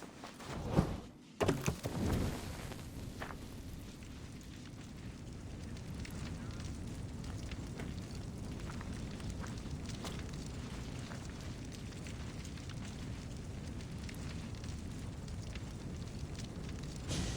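A fire burns steadily in Assassin's Creed Odyssey, a continuous low roar and crackle after a brief loud burst and thump near the start, with no clear voices.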